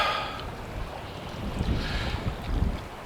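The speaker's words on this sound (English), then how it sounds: "it's extremely windy this morning." Strong wind at Baulking Lake buffets the microphone in low, rumbling gusts that swell and fade, with a faint hiss of moving air and water, no talking.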